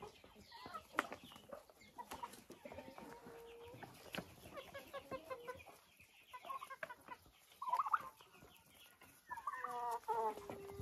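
Turkeys and chickens at a country dacha call out for greens, with repeated close clucks, squawks and gobbling cries in uneven bursts throughout.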